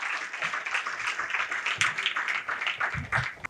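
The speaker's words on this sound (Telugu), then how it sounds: "గట్టిగా చప్పట్లతో మేడం గారిని స్టేజ్ మీదకి ఆహ్వానించుకుందాం" An audience claps steadily to welcome someone speaker onto the stage at a youth talk event, a dense, moderately loud patter of many hands with a few brief murmurs mixed in.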